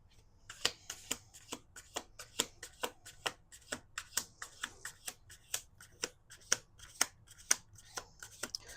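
Tarot cards riffle and snap in a quick steady rhythm, repeated crisp shuffles close to the listener with no talking.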